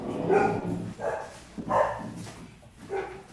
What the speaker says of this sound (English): Dog's kind of going crazy.